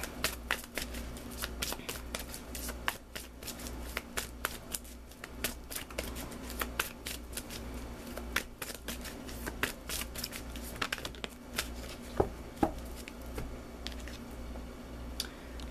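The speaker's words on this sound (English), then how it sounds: "let's pull you an additional guidance card" Tarot cards shuffled by hand for a reading, a dense run of soft riffling and slapping card sounds lasting about fifteen seconds, close and steady with sharper snaps near the end, no talking.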